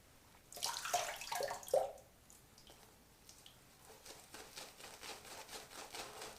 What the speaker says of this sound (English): I'm going to add some water to that.